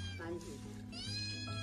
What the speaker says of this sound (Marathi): ही मांजर कोणाची